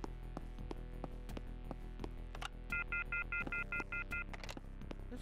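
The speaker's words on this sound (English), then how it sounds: "This call cannot be completed as dialed." Telephone dialing tones from the Duke Nukem video game, a quick run of about eight even touch-tone beeps over a steady low hum, mixed with scattered sharp clicks and clunks of in-game sounds.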